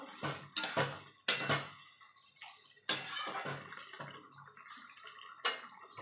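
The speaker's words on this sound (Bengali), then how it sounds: "এবার ভালো করে নেড়ে দেবো।" Ridge gourd with a little turmeric powder being stirred in a pan, giving several sharp, close scraping and clattering strokes of a utensil against the metal, with quieter shuffling between them and no talking.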